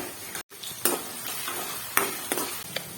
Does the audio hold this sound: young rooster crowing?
no